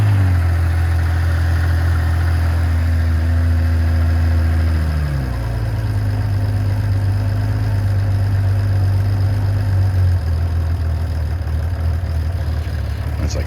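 A 1980 Honda CBX motorcycle engine idling shortly after starting, with its valves freshly adjusted and carburetors synced: a steady, loud, close rumble whose pitch drops slightly around five seconds, then holds even.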